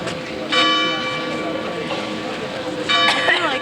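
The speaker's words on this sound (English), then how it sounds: "The bells are ringing" Church bells ring out in a German town around eleven o'clock, loud, close and sustained, with a second swell of strikes near the end; voices murmur faintly beneath.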